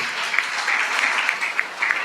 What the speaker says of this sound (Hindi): अरे तालियां जोर से बजाना, जोर से बजाओ, प्रभु के लिए महिमा करो।